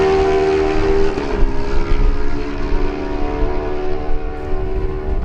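Kawasaki lightweight racing motorcycles pass during a Manx Grand Prix road race, a loud sustained engine drone with a falling pitch as a machine goes by, steady and close, with no voices.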